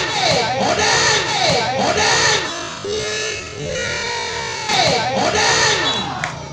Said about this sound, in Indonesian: Kali ini kencang para penonton terus saja dibayar kontan bersama Putra Aditi.